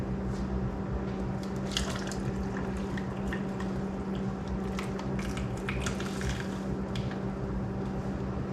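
Water splashes and trickles from a tap into a pressure canner of potatoes, continuous and close, with a steady background hum and scattered drips and clinks.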